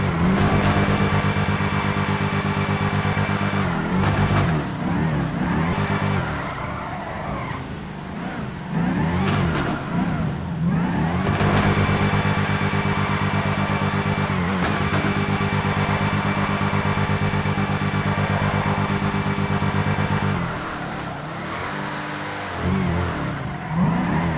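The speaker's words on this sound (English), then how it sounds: "You can actually drift around corners and stuff." A tuned car in GTA FiveM revs hard while drifting around corners, the engine climbing and dropping in repeated surges with brief lifts between, loud and close throughout.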